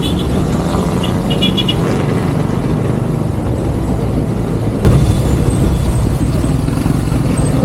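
Heavy morning traffic jam at the Kopo red light in Bandung, heard from a motorcycle, with a dense, loud wash of idling and revving engines close around and a brief horn.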